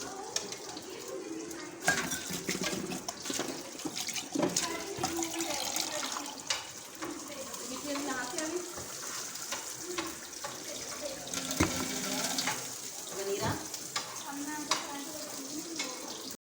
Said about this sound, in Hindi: पानी थोड़ा सा मसाले में डाल दें